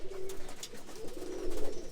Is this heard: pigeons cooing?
yes